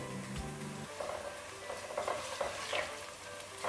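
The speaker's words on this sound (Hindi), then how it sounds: "हल्का सा इसको भूनेंगे बस" Whole spices, including cardamom pods pressed open, fry in a pan for a pulao, giving a steady, close sizzle with soft stirring scrapes throughout and no talk.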